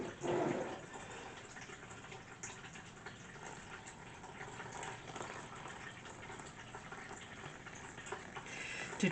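Water pours steadily into a container for making hot chocolate, a continuous close gushing fill that runs unbroken with no talk.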